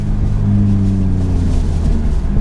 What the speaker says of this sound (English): She just did first, second, third, and she let off the gas, shifted, and then got back on the gas.